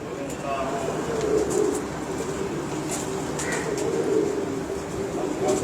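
Rampuri pigeons coo in soft, repeated low throaty calls close by, over a steady background hum, with a few faint chirps scattered through.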